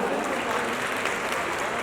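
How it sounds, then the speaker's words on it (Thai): A crowd at a Thai presenter introduction event claps in a steady, dense wash, with voices mixed into the sound throughout. "ขอเสียงปรบมือกับพี่หนุ่มด้วยนะครับ"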